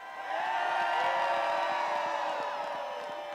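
A crowd at Gobblers Knob on Groundhog Day, gathered in a storm, cheers and whoops in a sustained outdoor roar that holds steady for several seconds before tapering slightly.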